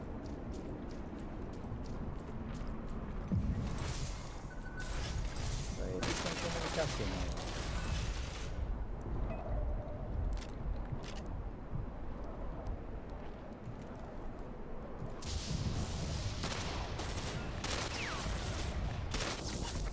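Gunfire in the video game Ghost Recon Phantoms, with bursts of rapid automatic fire and scattered shots coming in clusters, mixed with game ambience and a player's voice talking.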